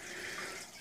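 Water splashes steadily into a 29-gallon saltwater fish-only aquarium, a continuous close rushing like a small waterfall with no voices.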